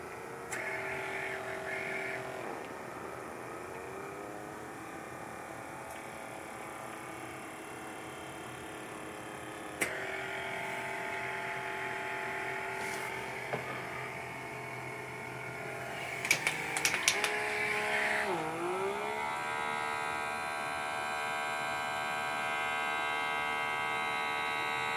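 Handheld blackhead vacuum running on its low mode, a steady electric motor whine and hum with tonal bands, shifting pitch a few times as suction loads and releases, with a few clicks and brief bumps.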